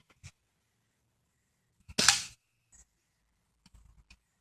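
A BB gun fires at a backyard target: one sharp, short crack stands out against near silence, framed by a few faint clicks and taps before and after.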